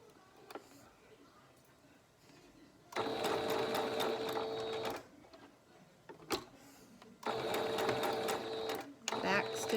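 A sewing machine stitches elastic onto a fabric face mask in two rapid, steady runs of a few seconds each, with pauses and small clicks in between.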